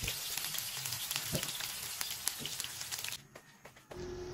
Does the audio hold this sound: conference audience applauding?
no